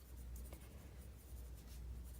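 Prismacolor colored pencil shading leaves on paper, a soft continuous scratchy scribbling with quick repeated strokes, close and quiet, without talk.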